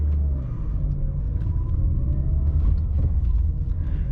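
A Mercedes-Benz C180 W203 with a 129 hp six-speed manual drives through the city, its low engine rumble steady from inside the cabin with slight changes in pitch as the gears shift.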